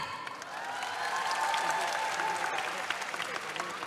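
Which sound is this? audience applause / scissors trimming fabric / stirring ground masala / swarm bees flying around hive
audience applause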